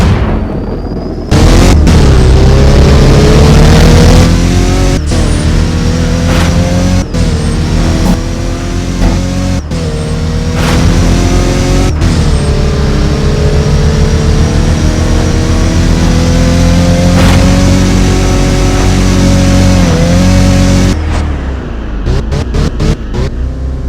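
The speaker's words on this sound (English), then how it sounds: "that was the Golf R Mark 7 for you. Pretty decent sounding car" A Volkswagen Golf R Mark 7 in the Driving Empire game revs hard and loud throughout, engine pitch climbing and dropping through repeated gear changes, with abrupt cut-offs and short bursts at the end.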